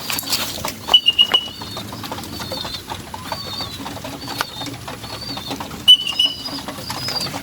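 Pigeons coo and call softly in a loft, with brief louder chirps and faint fluttering and shuffling over a steady background hum.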